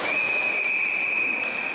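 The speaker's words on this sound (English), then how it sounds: "Got a whistle here." A referee's whistle sounds at a hockey game. It gives one sustained shrill blast that holds steady for nearly two seconds, clear and loud over faint arena ambience.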